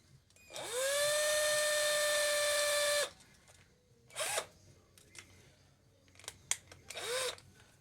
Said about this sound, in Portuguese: Uma parafusadeira ajuda bastante pra essas coisinhas pequenas assim, sabe?